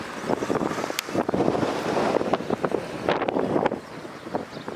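Gusty wind on a golf course buffets the microphone with a steady, rumbling roar that rises and falls in short surges and runs without a break.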